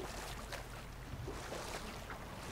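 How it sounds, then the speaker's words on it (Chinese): Boat gliding along a river in God of War, a soft steady wash of water and faint wind with gentle lapping, quiet and continuous. "我们可以把这个船靠岸。"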